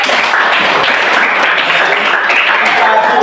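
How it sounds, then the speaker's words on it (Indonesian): Students in a Catholic religious education class applaud together in a dense, steady burst of clapping lasting a few seconds, loud and close. "tepuk tangan untuk kita semua dulu."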